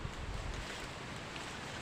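Strong wind blowing through a rambutan orchard where trees have fallen, a broad roar with buffeting gusts on the microphone, and no voices.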